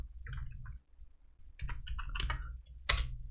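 Sparse, quiet clicks of a computer keyboard as someone types a command, a few scattered keystrokes close by with brief gaps and one sharper tap near the end.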